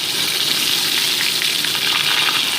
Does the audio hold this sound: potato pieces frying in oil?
yes